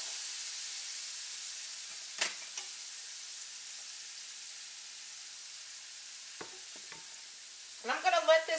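Minced garlic and sliced onion sautéing for curry shrimp, a soft steady sizzle with a few brief stirring taps and a short scraping burst near the end.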